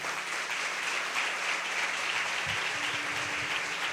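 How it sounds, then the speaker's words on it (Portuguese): Applause at a Catholic prayer gathering, a steady dense clapping from a crowd that fills the whole stretch at an even level, with a faint low voice briefly under it. "Pode aplaudir."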